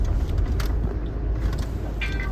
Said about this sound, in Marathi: गाडी थांबव ड्रायव्हर